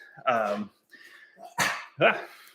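A pet dog gives a few short yips and whimpering barks in a home, sharp separate bursts close by, with a person talking between them.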